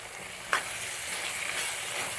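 Fried prawns sizzle in a pan of roast gravy with pepper, tomato, ginger and curry leaves, a soft steady frying hiss with one brief clatter near the start, no talking.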